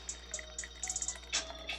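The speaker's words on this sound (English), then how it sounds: "I like to pour my liquid in first. So we're going to start with our evaporated milk." Evaporated milk poured into a BlendJet blender, heard as a short run of light liquid splashes and trickles, close and fairly quiet, with no talk.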